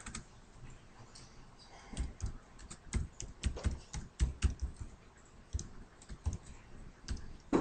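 Someone types on a computer keyboard in bursts of quick, close clicks and key taps, irregular in rhythm with short pauses, alone without talk.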